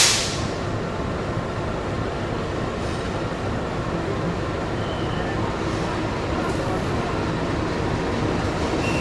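Singasari passenger train running from Pasar Senen to Blitar arrives from the west, a steady, loud rumble of wheels and carriages filling the whole stretch without letup.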